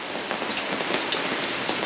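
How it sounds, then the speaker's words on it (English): Steady light spring rain in Washington patters on surfaces nearby, a dense even hiss with small droplet ticks scattered throughout and no voices. "This is actually light compared to what it was raining earlier today."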